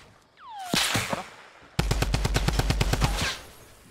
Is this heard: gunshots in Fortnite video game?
yes